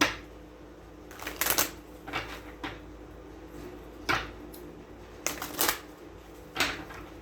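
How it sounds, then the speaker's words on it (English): Tarot cards being shuffled by hand, several short papery riffling bursts separated by pauses, close and fairly quiet. "One more shuffle."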